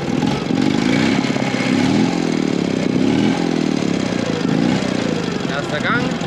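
A heavy BMW R75 wartime sidecar motorcycle runs in first gear, its engine a loud, steady, close drone with faint fluctuations, and a voice speaks briefly over it.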